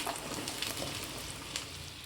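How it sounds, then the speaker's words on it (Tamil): Halved small and large onions with curry leaves sizzle and fry steadily in a pan for a Chettinad-style chicken chukka, a soft continuous crackle with no talking. "இந்த வெங்காயம் வந்து நல்லா வதங்கி வரணும்."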